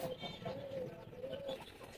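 Teddy pigeons kept in a large loft setup coo softly in low, drawn-out rolling phrases, faint and close, with quiet background rustle and no talk.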